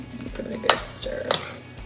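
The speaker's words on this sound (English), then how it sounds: "Give it a good stir." A utensil scrapes and clanks twice in a pan of fried rice with eggs and vegetables over a soft background sizzle, close by and with no voices.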